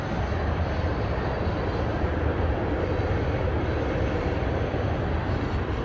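Train passing below a cliffside garden, a continuous loud low rumble and rolling roar that holds steady throughout with no talk.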